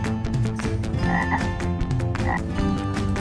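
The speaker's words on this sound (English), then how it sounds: "Green frog." A green frog croaks repeatedly in a steady, rhythmic series of loud, close croaks, heard alone without any talking.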